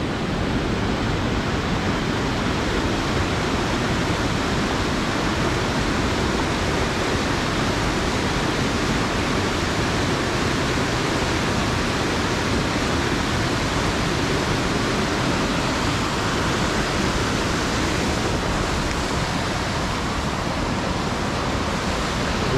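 A waterfall roars steadily below rock cliffs at Cathedral Rocks near Ebor in New England, Australia, a dense, unbroken wash of falling water that stays loud and even throughout, with no voices.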